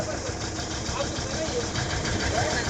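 A boat engine runs steadily on a long river or reservoir crossing toward a hill fort, a continuous mid-pitched drone with rumble and vibration that stays constant throughout.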